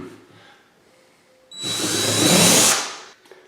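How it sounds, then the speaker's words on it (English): A power drill pre-drills a screw hole near an outlet box, a loud whirring burst of about one and a half seconds that rises after a quiet stretch and then stops abruptly. "I'm going to pre-drill a hole for the screw."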